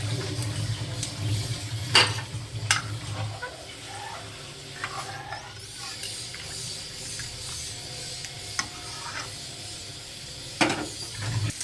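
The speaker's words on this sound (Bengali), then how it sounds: "ডালের মধ্যে জল দিয়ে দিচ্ছি।" Water goes into cooked matar dal with a mustard-seed tempering, giving a hissing sizzle and a low rumble. Sharp clinks of utensils against the pot come now and then.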